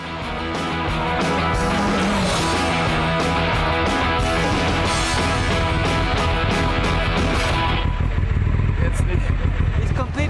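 A Lancia Delta S4 rally car roars loudly and continuously through a fast ride, the engine note dense and unbroken and changing character near the end, with voices mixed into the din.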